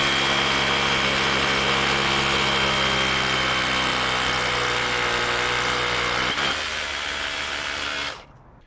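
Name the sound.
DeWalt Elite SDS Plus 3/16-inch bit drilling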